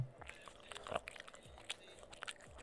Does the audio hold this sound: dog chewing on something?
yes